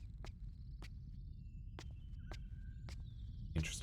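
Faint chirps and short whistled calls of a bird ring out in the video game Riven. They come as a handful of separate, sharp calls over a low ambient rumble, with a brief louder rustle at the end.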